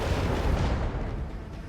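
Macro cannons on a warship in the Rogue Trader video game fire as one dense, continuous barrage of booming rumble that fades slightly over under two seconds.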